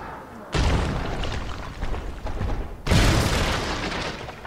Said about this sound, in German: Oh Gott, die Kanone.